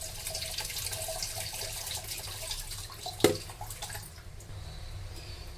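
Ration rice being washed in water in a bowl, with continuous soft splashing and trickling nearby and one sharp clink partway through before the water quiets.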